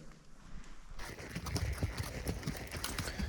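Steady clip-clop of a mare's hooves walking on a hard surface, close by, with a regular rhythmic pattern of hoofbeats and some background noise.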